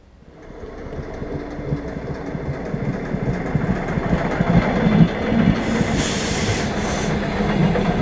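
A train rumbles steadily closer, a rising roar of wheels and rattling cars, with a brief hiss of brakes near the end, arriving at a station in Latvia.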